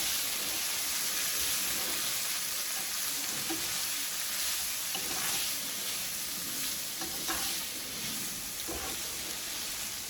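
Shrimp frying in a pan at home, a continuous close sizzle with faint stirring scrapes and small crackles running steadily throughout.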